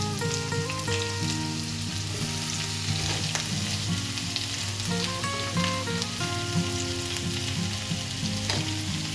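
Sliced onions and chillies fry with garlic in a pan for a chicken curry, a constant crackling sizzle playing beneath steady background music.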